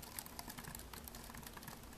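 Fingers type on an i-rocks IRK01W pantograph keyboard with light, slightly noisy keys, producing a quick, irregular run of soft close-up clicks that is fairly quiet against low background noise.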